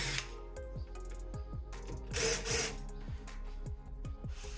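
A power drill backs screws out of the cover of a Stripmeister E2000x, giving a steady close motor whir with repeated ratcheting pulses and a brief louder burst midway, with no talking.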